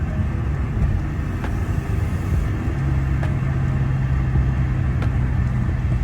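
Datsun 280ZX on the road, a steady low engine drone with road rumble from inside the car, holding an even tone with a faint rising hum partway through.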